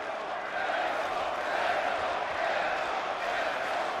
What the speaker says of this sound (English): You hear the pro-Ivanov chant